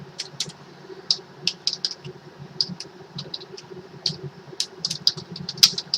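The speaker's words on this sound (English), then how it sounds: "Now name should be entered from the keyboard." Someone types a name on a computer keyboard, producing irregular, sharp, fairly close clicks in short bursts over a steady low background hum.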